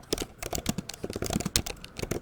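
Rapid, irregular clatter of keys on a computer keyboard while a commit message is typed in a git editor, close and fairly quiet, with short bursts of keystrokes and brief pauses and no voice.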